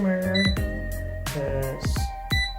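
A Xiaomi Youban air fryer beeps as its timer is set, giving a series of short electronic tones at an uneven pace, close and clear.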